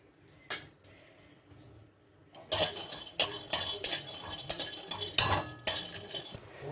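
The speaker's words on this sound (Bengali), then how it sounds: "এই যে আমি কয়েকটা বাদাম ভেজে নিচ্ছি।" Peanuts are fried in a pan while a metal spoon stirs them, producing repeated sharp clinks and scrapes after a quieter start, with only faint sizzling underneath.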